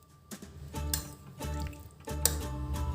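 Water being poured into a cooking pot while preparing a village-style prawn curry, with splashy, irregular liquid bursts and a low rumble of the pot close by.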